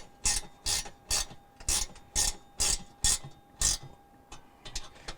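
A hand ratchet tightens the igniter mounting hardware inside a Maytag stove, making about eight crisp, close clicking strokes at an even pace before a few lighter ticks.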